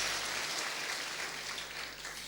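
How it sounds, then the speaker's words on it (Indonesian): Church congregation applauding together, a steady, dense wash of clapping from many hands that continues throughout at moderate volume with no speech. "Beri tepuk tangan yang meriah bagi Yesus Kristus."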